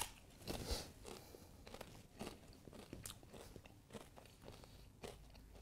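Faint, close crunching bites of nachos repeat irregularly over a few seconds, quiet and alone with no voices.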